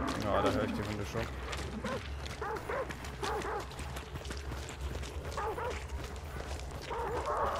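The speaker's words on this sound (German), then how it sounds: "Ja, da höre ich die Hunde schon." Dogs bark and yip at a distance in the video game Hunt: Showdown, scattered barks heard under steady player talk and game ambience.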